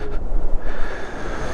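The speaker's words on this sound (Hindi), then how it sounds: "इधर से पानी आ रहा है।" River water rushes in the gorge below Lanka Bridge near Gangotri, a dense, loud roar with wind buffeting the microphone. The noise runs continuously through the short moment, and no one speaks.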